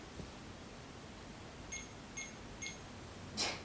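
An electronic device gives four short, high beeps inside the haunted Madison Seminary asylum, three evenly spaced and a slightly longer, louder one last, faint over a quiet hiss.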